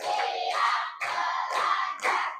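A classroom of children claps in counted bursts, four loud, crisp groups of clapping separated by short pauses, close and crowded.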